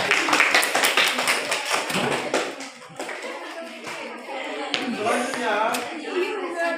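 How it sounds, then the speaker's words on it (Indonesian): A classroom group of students applauding for group C, with a dense burst of clapping that runs throughout and voices mixed in underneath. "berikan nilai aplaus tepuk tangan untuk kelompok C"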